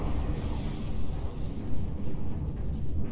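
A frigate blows up in the From The Depths naval combat game, a dense roaring explosion rumble filling the mix with continuous low, loud debris noise and no voices.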